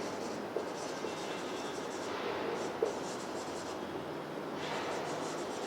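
Chalk or marker writes on a board during an English grammar lesson, a faint continuous scratchy stroke with a couple of small taps, heard at a distance over a steady room hiss with no talk.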